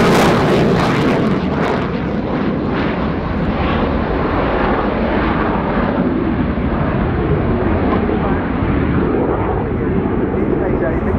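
Romanian MiG-21 LanceR fighter jet in a flying display at RIAT 2019, a loud continuous roaring jet engine rumble filling the whole stretch, with a voice commentating over it.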